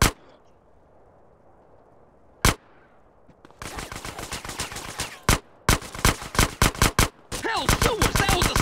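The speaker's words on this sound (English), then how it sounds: "That was a sniper bullet!" Gunfire in GTA San Andreas, with a single sharp shot early on, then sustained rapid bursts of automatic fire broken by loud cracks, ending in a dense volley with clanging impacts.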